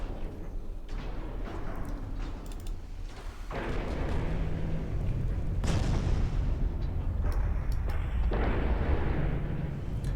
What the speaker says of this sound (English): Some torpedoes from our destroyers.